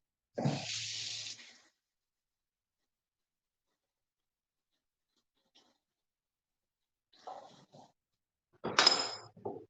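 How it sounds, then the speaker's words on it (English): Fresh ginger rinsed under a running kitchen tap, a short splash of water at the start, then silence, followed by brief clattering handling sounds near the end. "So, okay, I'm just going to rinse this off."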